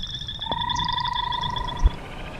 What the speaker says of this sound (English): the frogs are certainly also enjoying the weather